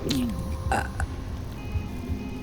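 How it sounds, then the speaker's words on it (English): A monster in the dungeon-management game Dungeons 4 lets out a deep, gurgling burp up front, followed by quieter game effects and faint chimes. "It was reflex because he burped."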